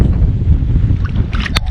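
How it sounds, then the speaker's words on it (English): Steady wind roars and buffets a microphone out on an open lake from a kayak. The low rumble is loud and continuous, with a few brief knocks and rustles near the end and no talking. "It is windy."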